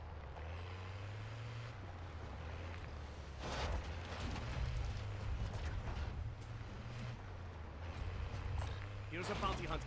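A vehicle driving in Call of Duty: Modern Warfare III Zombies, with a steady low engine drone that shifts pitch over about ten seconds, occasional heavier bursts, and a voice talking over it.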